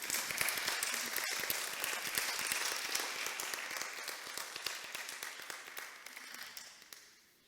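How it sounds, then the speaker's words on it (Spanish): A church congregation applauds during a sermon on the Samaritan woman, a dense crackle of many clapping hands that runs steadily for several seconds and then fades away. "¿No le dan un aplauso a Dios por eso, al Señor Jesús?"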